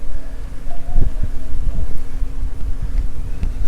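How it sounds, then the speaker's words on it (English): Wind gusting outdoors along a residential street in Merida, Mexico, a steady broadband rush with low rumbling buffeting across the microphone and faint background sounds. "The wind blowing now."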